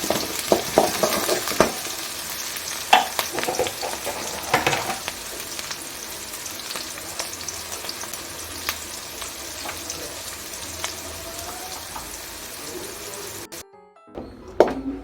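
Chitranna (lemon rice) is stirred and fried in a pan with a steady sizzle, broken by scraping spoon strokes and occasional clatter. Near the end there is a brief silence, then a few louder knocks.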